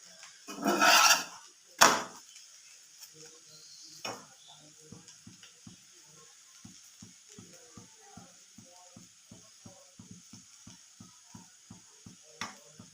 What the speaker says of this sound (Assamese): ভাজিছোঁ পুৰা